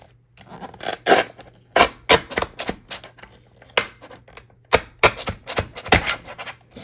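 A sliding-blade paper cutter slices through fabric paper in a quick series of sharp, close cuts and scrapes, loud strokes with short gaps, alone without talk.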